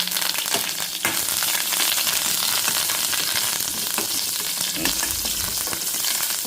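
Asafoetida, green chilies and curry leaves tempering in hot oil, giving a loud, steady, close sizzle with crackling spits and light stirring scrapes throughout, no voices.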